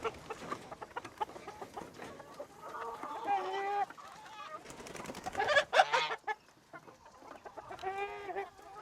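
A crowd of chickens clucking and squawking nearby as they file out of a coop, with overlapping irregular calls that rise and fall in bursts.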